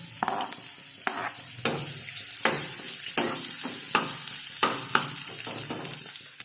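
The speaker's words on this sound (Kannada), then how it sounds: "ಈಗ ಎಣ್ಣೆ ಕಾದೈತಿ, ಅದ್ರೊಳಗೆ ನಾನು ಫಸ್ಟ್ ಈರುಳ್ಳಿ ಹಾಕ್ತೇನೆ." Onions sizzle and fry in hot oil in a kadai for a vegetable kati roll, with a steady crackling hiss broken by regular stirring scrapes, close and fairly quiet.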